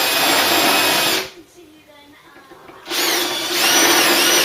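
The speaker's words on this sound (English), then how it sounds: "Straight through these now with that drill bit." Power drill boring through metal brackets during a Ford Cortina Mk3 restoration, loud and close, running steadily, stopping briefly for about a second and a half, then resuming at full speed.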